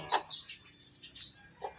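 A large fighting rooster with a gaff tied on calls in short bright bursts and chirps, a few separated notes at moderate volume with quiet gaps between them.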